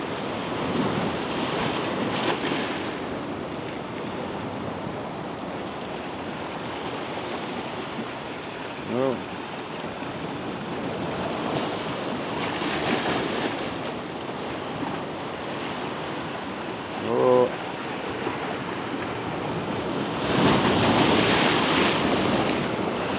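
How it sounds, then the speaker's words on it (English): Big ocean waves break and wash along the shore at sunrise in a continuous roar with gusty wind noise, swelling into louder crashes near the end. "And here comes a big wave now."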